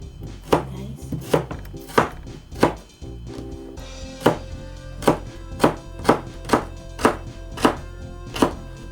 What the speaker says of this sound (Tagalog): Hiwain ko rin siya guys ng maliliit.